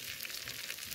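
Small chicken pieces fry in a pan with a constant bright sizzle and crackle, close and steady, with no one talking.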